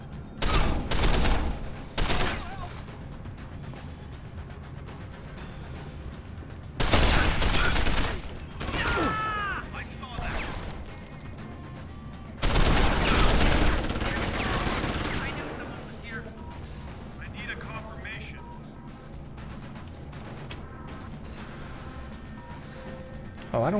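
Bursts of automatic gunfire in Deus Ex: Human Revolution, three loud separate volleys with quieter stretches of game ambience and a voice between them.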